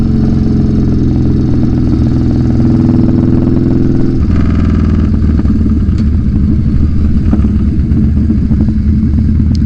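Yamaha Bolt motorcycle engine running loud and close, a steady throbbing V-twin drone with a shift in tone partway through, alone with no talk.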